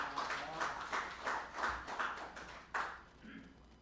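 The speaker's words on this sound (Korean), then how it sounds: "박수 한번 주시기 바랍니다." Congregation applause in a church during a celebration, a soft scattered patter of clapping in rhythmic bursts, faint and somewhat distant, fading toward the end.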